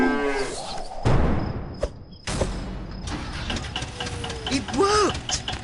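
Cows mooing in the video game Hector: Badge of Carnage, with a couple of drawn-out moos rising out of busy game noise and clatter, and a voice-like call near the end.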